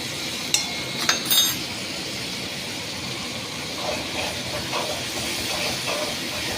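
Ginger paste goes into hot oil with softened tomato masala, setting off a steady close sizzling hiss after a few quick metallic clinks of a utensil against the pan.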